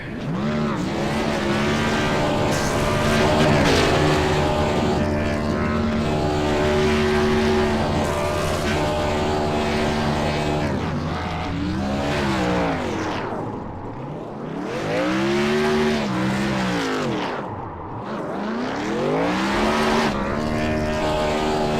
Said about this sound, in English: Doing a little celebratory burnout in the grass